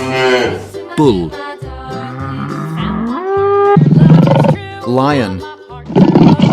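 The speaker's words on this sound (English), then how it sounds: "Lion." A lion gives several loud, rough roars and growls of changing pitch, close and forceful, over a pulsing background music beat, with voice-like sounds mixed in.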